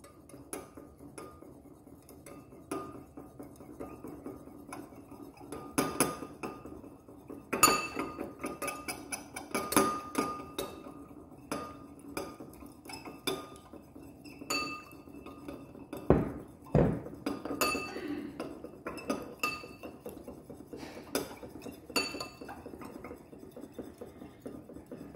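A utensil clinks and scrapes against a bowl while oil, mustard and acid are whisked into a salad dressing, making a steady run of close, uneven metallic taps and clatters with no talk.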